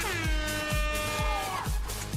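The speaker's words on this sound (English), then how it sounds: "Caleb, that deserves an air horn." Loud, blaring air horn bursts repeated rhythmically over a thumping beat, each blast harsh and brassy, heard alone without speech.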